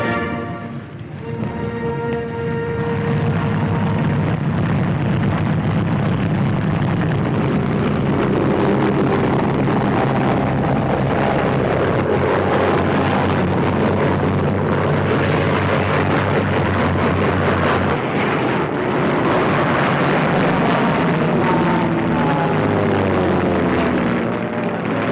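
WWII Soviet fighter planes take off and fly, propeller engines roaring loud and sustained, with pitch shifting as the aircraft pass and the drone fills the whole stretch without any talk.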